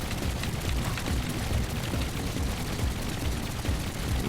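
Rapid anti-aircraft gun fire in the vehicle-building game Trailmakers, a dense continuous barrage of overlapping booming shots, loud and unbroken throughout.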